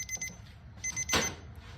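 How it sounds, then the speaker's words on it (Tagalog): A ThermoPro meat thermometer alarm sounds while beef ribs are being smoked, giving two bursts of rapid high beeps separated by a brief clatter, over a low background rumble. "Yun, tumutunog na yung kanyang alarm."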